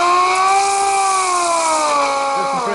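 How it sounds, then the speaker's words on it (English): An air sander working on a wooden chess queen, a loud steady high-pitched whine with a slightly wavering tone, continuous throughout with no pauses. "And take the air sander."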